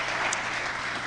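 A church congregation applauds in unison during an afternoon gathering: a dense, steady wash of clapping that fills the room from start to finish, with no individual voice standing out.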